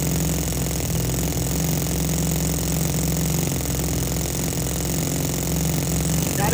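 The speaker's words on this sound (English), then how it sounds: "you can see as the engine started, the starter clutch is disengaged" A small RC model engine, just fired up with its starter button, runs at a steady buzzing idle, loud and close, with a faint rattle and no speech.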